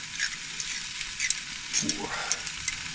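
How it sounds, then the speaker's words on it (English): Chilli con carne is stirred in a hot pan, giving soft sizzling with scattered clicks and scrapes from the utensil, moderately quiet and close, with no voices. "Alright, let's start mixing all that in."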